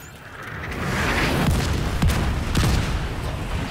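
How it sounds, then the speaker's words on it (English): Mortar fire in The Division 2 video game, set at Coney Island ballpark in New York: a continuous barrage of heavy booms and crackling blasts, with louder impacts landing around the middle and later part, dense and close with no talk. "Use the mortars!"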